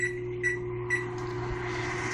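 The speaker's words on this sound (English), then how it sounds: "I am somewhat in a hurry, so I will choose to microwave it." A microwave oven runs with a steady hum while heating meat, with a few short beeps near the start.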